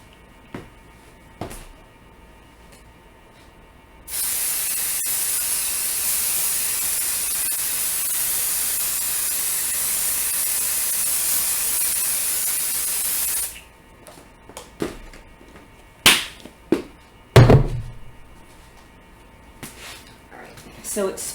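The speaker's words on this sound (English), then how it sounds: "So now I'm going to just spray some of my 505 on this top portion here" 505 basting adhesive spray from an aerosol can is applied to a quilt top, producing one steady, loud hiss that lasts about nine seconds. Quiet handling noises and a few scattered thumps come before and after it.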